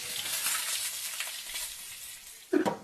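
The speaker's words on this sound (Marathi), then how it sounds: "ह्याला भाजून घेतो चांगलं तर मसाल्याला तेल सुटलेलं आहे" Masala fries in oil in a pan, a steady broad hiss of sizzling that eases off slightly, then a louder burst of stirring and spattering near the end.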